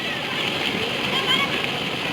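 Water drains and splashes off fish washed with turmeric, a short continuous sloshing trickle close by.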